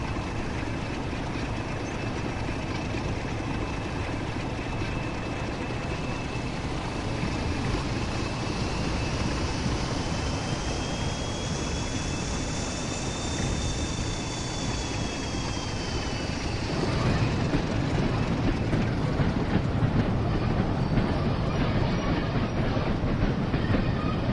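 A British Rail Class 101 diesel multiple unit in Train Sim World runs steadily with a continuous engine drone and rhythmic rail clatter, plus a rising and falling whine, growing slightly louder near the end.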